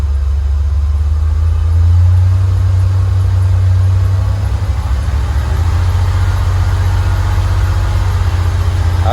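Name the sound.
Ford fox body Mustang engine revving up from idle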